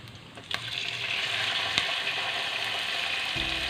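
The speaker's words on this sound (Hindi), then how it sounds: "अब इसमें मैं चिकन डाल रही हूँ।" Chicken cubes drop into hot oil with chopped garlic, giving a sharp hiss that settles into a strong, steady frying sizzle, with a couple of utensil knocks and stirring clatter near the end.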